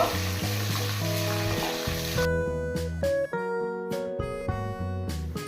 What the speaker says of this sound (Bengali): কাজু আর কিশমিশটা একটু ভেজে নেব